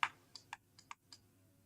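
Keys on a computer keyboard tapped in a short, uneven burst of about six crisp clicks, close and fairly quiet, with no talking.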